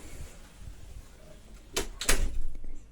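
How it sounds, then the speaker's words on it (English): Door of a Jaguar X-Type car shutting, two short sharp thumps close together near the end, fairly close against a quiet outdoor background. "Close this door."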